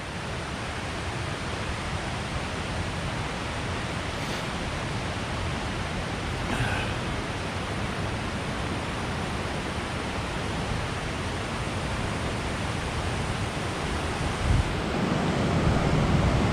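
A mountain river swollen by recent rains rushes steadily along a trail in winter. The roar is broad and continuous, with no talking, and it swells slightly louder near the end.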